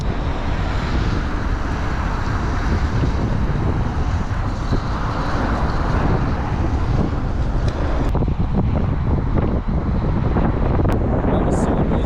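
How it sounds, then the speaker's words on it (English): Strong wind buffets a microphone on top of a bridge, a loud constant roaring rumble with gusty low-end pressure throughout and faint background traffic-like noise. "Jeez, the wind is so strong."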